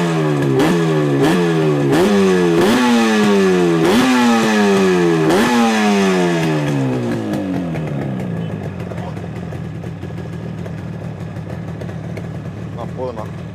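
Restored 1987 Yamaha RD350 two-stroke motorcycle revving hard in a rapid series of throttle blips that rise and fall, then settling into a steady idle, loud and close.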